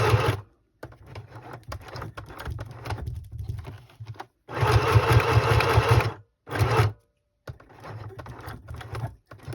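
A sewing machine runs in bursts of fast, rattling stitching, stopping and starting several times with short silent gaps between runs.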